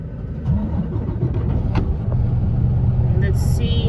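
Car with a stuck DEF fluid gauge pulling away, a close, low engine rumble rising slightly as it moves off, with a person talking over it.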